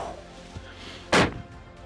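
A single rifle shot fired during a Wyoming deer hunt, one sharp, booming crack that rises abruptly out of quiet outdoor ambience and decays quickly.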